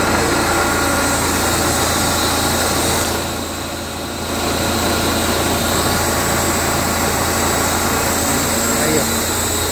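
A truck's engine runs steadily while a hydraulic piston raises the bed to tip a load of wet sand, giving a loud, close, constant drone that dips briefly midway before resuming.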